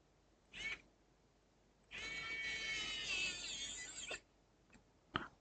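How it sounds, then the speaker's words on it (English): A camera's autofocus motor whirs in a short burst, then hums steadily for about two seconds, followed by a couple of faint ticks in an otherwise quiet room. "Yeah, camera autofocus."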